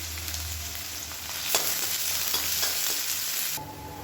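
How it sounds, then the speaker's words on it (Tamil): Crushed garlic crackles and sizzles in hot oil while being fried crisp for curry leaf podi, a dense close hiss with a few stirring knocks, easing off just before the end, no talk. "பூண்டு வந்து வறுத்து எடுத்துக்கலாம்"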